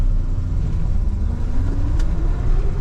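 A Squarebody Chevrolet Suburban with an NV4500 gearbox, warmed up off the choke, pulls away in second gear. A loud, deep engine rumble rises steadily in pitch through the short stretch with no talking.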